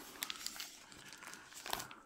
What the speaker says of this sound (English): Oh, should we pull the tab or cut it? Let's try to pull it.